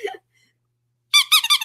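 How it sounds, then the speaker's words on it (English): Squeaky dog toy squeezed for a basset hound, a short squeak at the start, a pause of near silence, then a rapid run of four or five bright squeaks, close and loud. "The basset hound loves the squeaky."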